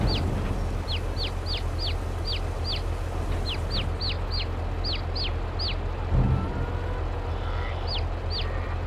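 Chickens in the farming video game Farming Simulator 22 cluck in quick, short repeated calls, in several clusters over a steady low background hum, with a brief thud midway and no speech.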